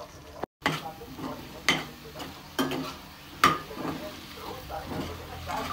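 Homemade choila with green chilies gets stirred in a bowl or pan, with scraping strokes and soft clinks spaced every second or so over a light sizzle, close and moderately loud.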